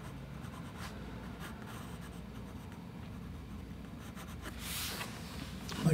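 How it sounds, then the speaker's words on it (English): An office pencil scratching across paper while sketching a seascape, a soft continuous scraping with short strokes, close and quiet, swelling slightly near the end. "So I'm using an office pencil here"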